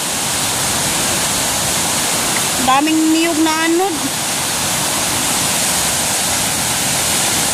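A clean river flows with a loud, constant broadband rush, and a person briefly speaks over the water partway through.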